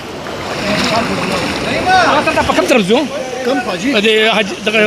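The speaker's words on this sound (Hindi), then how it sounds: "तो पानी के बहाव में मुसलसल इजाफा हो रहा है, बहुत ही ख़तरनाक सूरत हाल है।" Flood water rushes through the streets of Mingora in Swat in a continuous, close, roaring wash, with someone talking loudly over it for most of the stretch.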